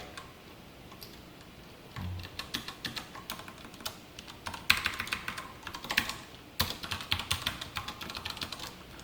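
Code typed on a computer keyboard during a C programming lesson, a steady run of quick, light key clicks in uneven bursts, close and fairly quiet with no talk.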